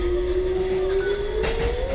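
A ghostly train rolls along steadily in the Japanese horror game Tsugunohi, a continuous loud rumble with a rising tonal whine, heard alone up close.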